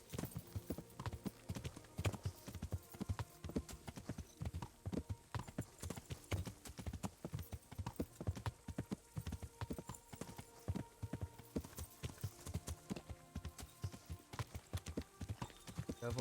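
Horse hooves pound in a steady galloping rhythm throughout a medieval game, Kingdom Come: Deliverance, close and continuous with occasional louder thuds and no talk.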